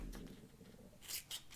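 Nonstick scissors snipping through small paper circles for the back of a card, two quick crisp cuts near the end after a softer low rustle.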